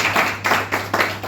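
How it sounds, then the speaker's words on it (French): An audience claps at the opening ceremony of a workshop in Togo, a few loud, rhythmic bursts of close applause with a steady low hum underneath. "qui est aussi avec nous ce matin, que je vous prie d'applaudir."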